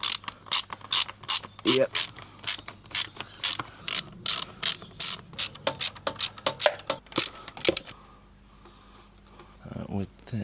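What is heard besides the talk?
ratchet undoing motorcycle fairing bolts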